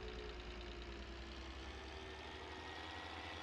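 A tractor engine idles steadily in Farming Simulator 19, a low continuous rumble with a faint tonal hum, alone at moderate level throughout.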